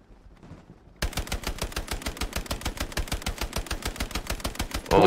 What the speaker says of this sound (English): Help, they're shooting at me.